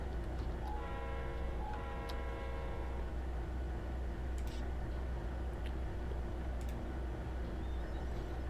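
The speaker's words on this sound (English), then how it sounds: "That engine is way louder than the horn for some reason." Train locomotive engine in the Trainz 22 railway simulator game, a steady loud rumbling drone running throughout, with a short sustained horn tone sounding twice early on.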